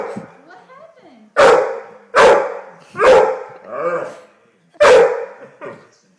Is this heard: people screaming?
no